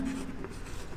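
Marker writing on a board during a Class 10 maths lecture on arithmetic progressions, a short run of squeaky strokes heard close and alone, with no talk.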